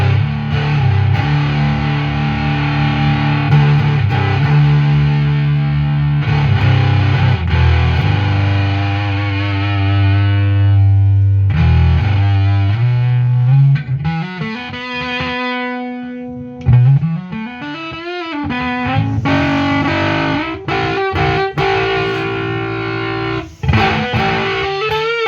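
Guitar with skinny strings played through a Behemoth II bass overdrive pedal: thick, fuzzy distorted notes and sustained chords, heavy filtering on held tones, with slides and bends, loud and close with no talking.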